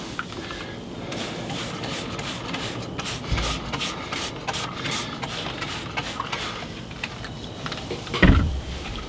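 Rag wiping up spilled engine oil beside a Yanmar 4LH marine engine: repeated rubbing and scrubbing strokes, close and fairly quiet, ending in a louder thump or clunk.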